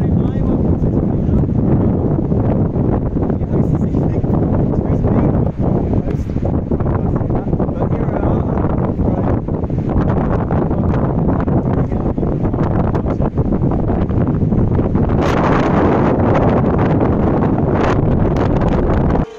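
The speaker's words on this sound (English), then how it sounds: "It was just a little windy that day." Strong wind buffets the microphone continuously at Queenstown Gardens, a loud, rushing roar with gusty surges that swell near the end.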